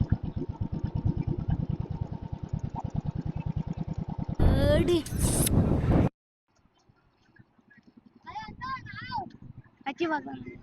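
Honda Activa scooter engine idling with a rapid, even putter up close, then a louder rushing burst before cutting out, followed by near silence and voices talking.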